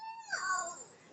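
A young child imitates a cat's meow: one short, high, wavering cry that slides downward and fades within about a second.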